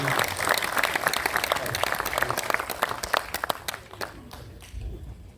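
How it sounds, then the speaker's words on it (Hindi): Audience applause at an all-India poetry mushaira, a dense wash of clapping from a large crowd that builds loud and steady, then thins into scattered claps toward the end. "जोरदार तालियां हमारे इस मुशायरे सब"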